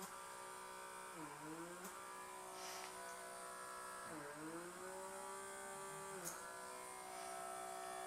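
A small blackhead suction vacuum device runs with a faint, steady electric whine, its pitch dipping twice as the tip seals against skin and then recovering.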